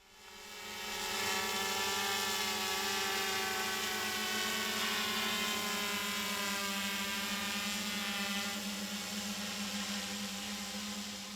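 A small drone on a test flight gives a steady, high-pitched propeller whine with clear tonal buzzing. It rises over the first second and holds fairly close and even, with no talk.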